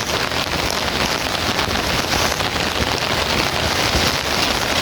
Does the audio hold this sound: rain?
yes